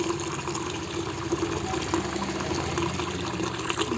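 A pump runs with a steady mechanical hum while water pours and fills continuously, a constant rushing wash heard close and unbroken for the whole stretch, without speech.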